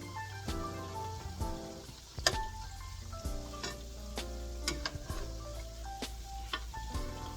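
Homemade biscuit-dough doughnuts fry in shallow hot oil, a continuous close sizzle and bubbling crackle with occasional sharper pops and clatters, no voices.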